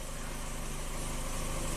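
A 1997 Kia Sportage 4x4 idles steadily after a surging-idle fault, its engine giving a close, even drone with no revving.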